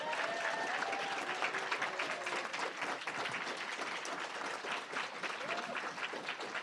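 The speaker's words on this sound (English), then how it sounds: "I want to give another round of applause to our recipients" A crowd at an awards event honoring Dr. Martin Luther King Jr. gives recipients a steady, dense round of applause, fairly distant and continuous, with faint voices mixed into the clapping.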